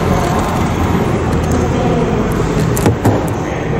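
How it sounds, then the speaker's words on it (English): Two brief clunks near the end, likely the lock of a 2023 MG4 Magnify i-Smart engaging after the front door handle button is pressed, set against steady outdoor road and traffic noise. "To lock the car, press the button on the front door handles."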